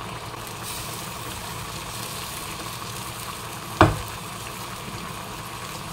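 Chicken sausage frying in a pan in a home kitchen: a steady, close hiss of sizzling oil runs throughout, broken by a single sharp clack of a utensil partway through.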